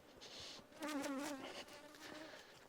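A swarm of bees being fed gives a close, continuous buzzing hum with a few louder passes and faint rustling.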